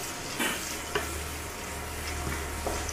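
Onions sprinkled with salt sautéing in a pan for Kerala egg curry, a soft steady sizzle with a couple of light stirring scrapes, close and without talk.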